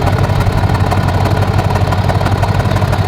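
An SRT Jeep's engine idles steadily with its valved mufflers closed, a low, even rumble with a constant throb that holds at moderate loudness throughout, no revving and no voices.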